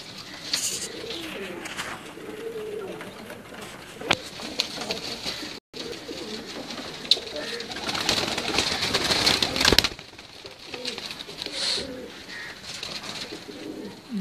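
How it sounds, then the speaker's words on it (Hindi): Pigeons coo on a rooftop, soft repeated throaty calls from nearby birds over light background noise, with a few sharp knocks and rustles in between. "ये भी लाजवाब कबूतर है।"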